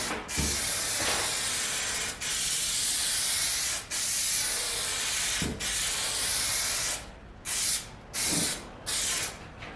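Aerosol trim adhesive sprayed onto door panels for a 1966 Ford Falcon wagon, a loud steady hiss in several long bursts with brief gaps, ending in shorter spurts.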